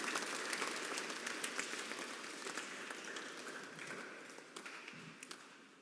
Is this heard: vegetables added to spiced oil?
no